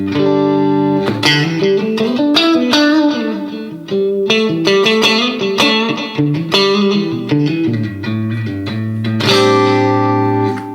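A clean, bright electric guitar plays chords and single notes through a Laney Lionheart LoudPedal with the bright switch engaged, ringing with a crisp, sparkling top end and no voices.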